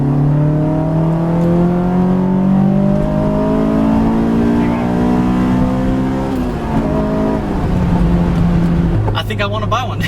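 A 2004 Honda S2000 AP2 in third gear revs hard from about 4,000 toward 8,000 RPM, its engine note climbing steadily into a loud, near, screaming exhaust wail before easing off as the revs drop near the end.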